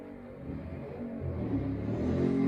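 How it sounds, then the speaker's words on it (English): A car engine rumbles and revs as the car does donuts in a residential court, slowly building in intensity, heard from a distance outside, with no talking. "There's some idiots doing donuts in the court"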